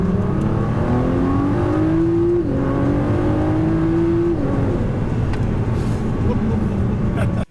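A Ford GT, pulled out of the circuit and driven hard, revs up through the gears with a loud, close engine note that climbs, drops at each shift, then climbs again under the rushing of wind.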